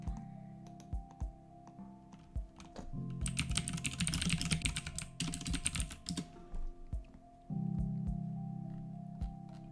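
Someone typing a search query on a computer keyboard, quick bursts of close key clicks separated by pauses, over a steady background hum.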